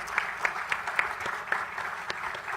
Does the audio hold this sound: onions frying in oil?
no